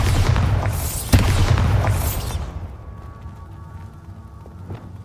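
The Bombarda spell in Hogwarts Legacy detonates as a loud, booming blast with crackling debris that fades over a couple of seconds into quieter ambient hum.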